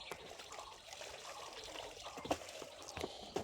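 Dishes washed with only a little water, giving a soft, continuous trickle and splash with a few sharper clinks of plates and pots, close and quiet.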